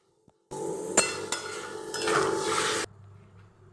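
A little water goes into a hot pan of potato and yardlong bean curry, bursting into a loud hiss and sizzle mixed with metallic clinks of the pan, then cutting off suddenly after about two seconds.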